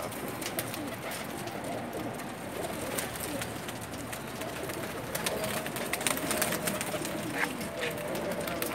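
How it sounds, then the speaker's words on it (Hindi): A loft of Lakha pigeons keeps up a soft, continuous cooing murmur with scattered flutters and clicks, faint and even throughout. "जी लाखे कबूतर।"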